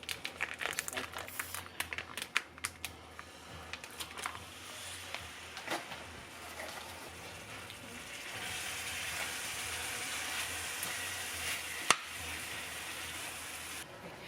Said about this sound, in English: So now that my pan is hot, we're going to go ahead and add our meat.